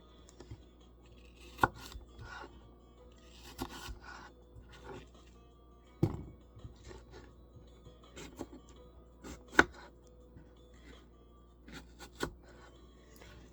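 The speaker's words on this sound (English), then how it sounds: "Let me just chop up these two apples" A knife chops two apples for applesauce on a cutting board, with irregular woody thunks and taps scattered over several seconds, some louder strikes standing out from quieter cuts, close and without talk.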